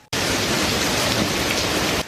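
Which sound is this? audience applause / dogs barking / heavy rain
heavy rain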